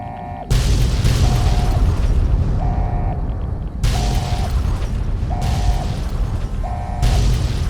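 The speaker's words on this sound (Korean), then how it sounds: "나는 안 도망가면 폭발이 이쪽까지 와서 죽을 줄 알았는데 그러진 않네." Repeated heavy booms from an explosion in Fallout: New Vegas, Lonesome Road, several loud blasts in sequence with rumbling tails and a recurring electronic beep between them.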